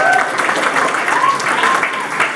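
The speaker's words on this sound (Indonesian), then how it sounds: "Beri tepuk tangan kepada teman kita." Applause for a fellow student at an Islamic boarding school graduation ceremony, a dense, sustained clapping from a large crowd, loud and continuous, with faint tonal sounds drifting through it.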